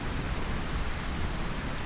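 Rainfall in Final Fantasy IX pours down as a continuous, full hiss with a low rumbling undertone, unbroken and moderately loud throughout.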